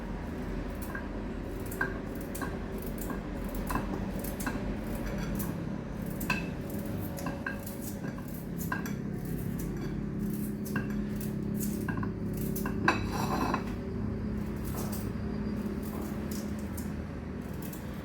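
Vegetables being sliced with a knife for a Moroccan tuna and vegetable tray bake: steady, light taps and soft cuts against a board with faint clinks, close and quiet, with no talking.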